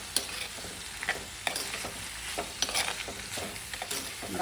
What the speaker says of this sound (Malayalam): അത് നമുക്ക് ഇതിനകത്തോട്ടൊന്ന് വഴറ്റി.